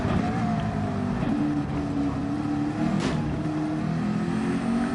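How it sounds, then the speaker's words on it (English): McLaren race car engine lapping the Nürburgring during a 12-hour endurance race, a steady loud droning roar with rising and shifting pitch as it revs, continuous and close throughout, with a brief whoosh midway. "Let's hear the McLaren engine."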